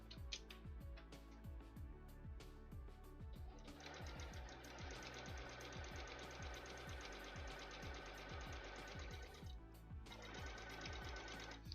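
A sewing machine stitches a Poison Ivy cosplay costume in rapid, steady bursts. The motor hums under a fast rhythmic needle chatter that picks up and intensifies partway through, pauses briefly, then resumes, close and alone.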